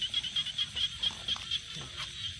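A big frog calls beside a mountain stream, giving a quick run of short, high, evenly spaced chirping croaks at close range over a faint outdoor background.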